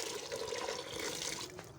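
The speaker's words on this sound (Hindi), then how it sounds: "अब हम डालेंगे पानी।" Water being poured into a cooking pot for matar pulao made with raw basmati rice, a steady pouring and splashing sound that runs evenly and close by throughout, with no talking.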